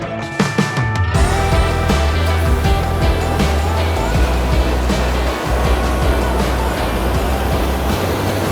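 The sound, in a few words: ocean waves on coastal rocks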